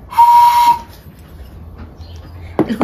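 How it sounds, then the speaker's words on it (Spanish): A chitente, a traditional Mexican clay toy whistle, is blown in one steady, clear, shrill note that lasts about half a second and then stops. Quiet room noise follows, with a brief knock near the end. "Este también, este es un chitente y es un silbato."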